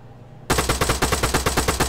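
Rapid automatic fire from an AK-47 rifle in the military game Arma 3: a quiet start, then a sudden loud burst of about a dozen sharp, evenly spaced shots ringing out close and continuous.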